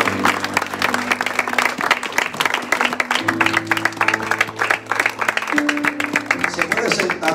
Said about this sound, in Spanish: Den un fuerte aplauso a Dios Padre